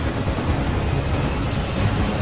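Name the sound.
helicopter in film Green Zone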